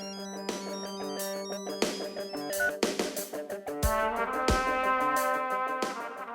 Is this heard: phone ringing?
yes